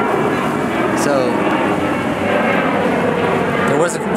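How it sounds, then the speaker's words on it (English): Airplanes pass over the Martin Luther King, Jr. Memorial in Washington, DC, giving a steady loud jet roar that fills the whole stretch, with a person talking briefly over it. "A lot of planes going by."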